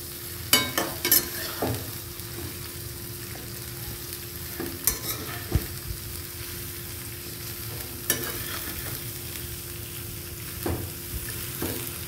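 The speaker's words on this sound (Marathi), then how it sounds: "कोबू चांगल्या प्रकारे असं मिक्स करून घ्यायचं आहे।" Shredded cabbage for kobichi bhaji being stirred and fried in a pan, a steady sizzle under repeated scraping and tapping of a spoon against the pan, close and moderately loud.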